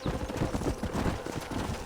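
Steady clip-clop of horse hooves trotting at an even rhythm in the video game Red Dead Redemption, close and continuous, with a soft rumble underneath.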